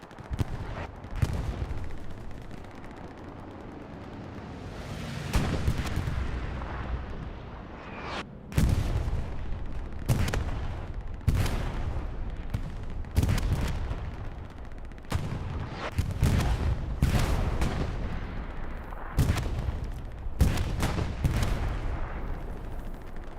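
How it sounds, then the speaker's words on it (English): Artillery strike in the video game Hell Let Loose: a long series of heavy, booming explosions landing one after another in irregular succession, loud and rumbling, with brief gaps between impacts. "Artillery strike called in on Chapel."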